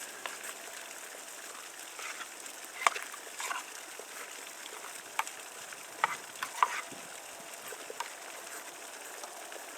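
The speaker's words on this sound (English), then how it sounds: "Now you can hear that's a rolling boil." Water at a rolling boil in a pot hung over a winter campfire, with a steady bubbling hiss and scattered sharper pops and crackles, close and fairly quiet, no speech.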